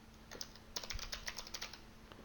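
Rapid keystrokes on a computer keyboard as Pascal code is entered, a quick run of close, crisp clicks in an even rhythm.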